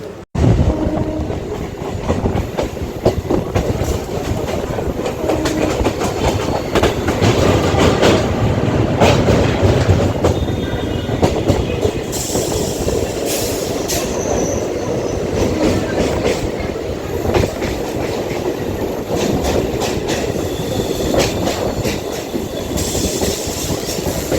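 A Naihati-Ballygunge local train running via Majherhat rumbles steadily with rhythmic wheel clatter and occasional metallic squeals, loud and continuous from aboard the carriage.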